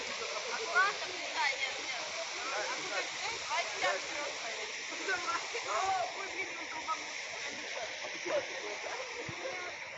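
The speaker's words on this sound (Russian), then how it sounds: "Там водопадик," A small waterfall at a hydrogen sulfide spring near Sochi splashes steadily with broadband rushing water, with faint voices murmuring in the background.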